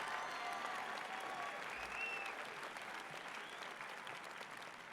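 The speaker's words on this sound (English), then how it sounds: "Let's give a round of applause for our students" A graduation crowd applauds students for the Class of 2018 at Anacortes High School, sustained broad clapping that sounds somewhat distant and soft, with a few whistles rising above it.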